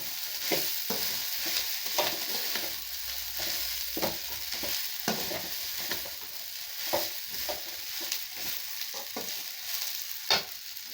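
Red poha cooking in a pan for upma gives a soft ongoing sizzle broken by repeated scraping and clinking stir strokes at an irregular pace, near and moderately loud.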